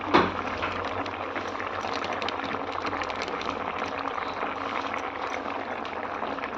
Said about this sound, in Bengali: আবার এটা একবার ফুটছে